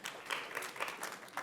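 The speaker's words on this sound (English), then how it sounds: "let's clap. Why not? It's fun." A small lecture audience at a talk on the science of sugar claps briefly. The claps are faint, scattered and irregular rather than a full, sustained ovation.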